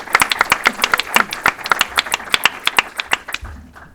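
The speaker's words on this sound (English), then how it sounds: "Please give Soner a round of applause for this fantastic book." A small audience gives a round of applause for author Soner Cagaptay's book on Erdogan and Turkish foreign policy at a talk, with sharp, distinct claps from a few nearby people, tapering off after about three seconds.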